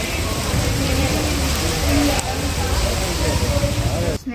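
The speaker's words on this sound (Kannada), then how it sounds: "ಫುಲ್ಲು ಜೋರು ಮಳೆ." Heavy rain pouring down in a dense, unbroken roar of hiss that stays loud and even throughout, ending with a brief dip.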